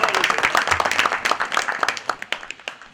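An audience at a Jain sermon in Karguwan ji, Jhansi, claps, a dense burst of handclaps that thins out and fades over a few seconds.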